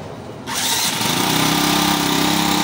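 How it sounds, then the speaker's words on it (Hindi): A self-start engine on a spray pump revs up as the accelerator opens, rising from a low idle to a loud, steady buzzing drone close by. "एक्सीलेटर देखो भाई इसका, बड़ा प्यारा साउंड है भाई बाइक के जैसा।"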